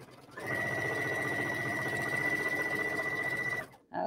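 A sewing machine stitches an appliqué leaf block in one steady, moderate-speed run of rapid needle clatter. It is close and even and stops abruptly after about three seconds.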